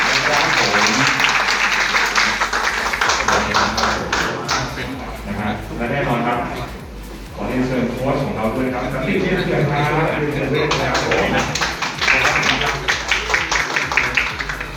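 Audience applause at a launch event welcoming a new player to the Ayutthaya United football club, sustained clapping of a crowd mixed with an announcer's amplified voice through the hall.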